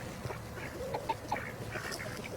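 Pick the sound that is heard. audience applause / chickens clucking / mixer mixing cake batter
chickens clucking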